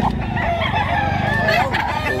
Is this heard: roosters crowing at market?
yes